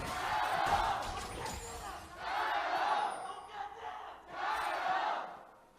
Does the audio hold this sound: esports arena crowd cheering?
yes